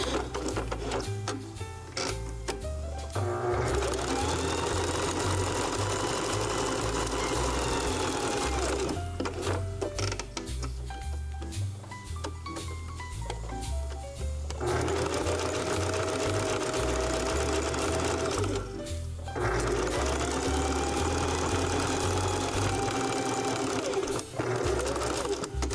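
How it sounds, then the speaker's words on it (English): A sewing machine runs long bursts of quilt stitching, a loud close rapid mechanical whir and needle chatter, pausing briefly between runs. "Go over here and do some quilt stitching down"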